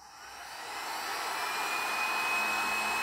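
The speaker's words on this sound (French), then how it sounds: "Donc là, le ventilateur, il est au minimum." A Parkside digital heat gun runs with its fan on the lowest speed, a steady whooshing blower hiss with a faint high whine that swells slightly in the first second and then holds constant, close up with no talk.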